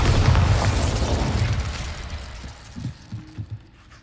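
A Bombarda explosion spell cast in Hogwarts Legacy bursts in with a loud, deep boom that rumbles and fades over a few seconds, followed by a few softer thuds.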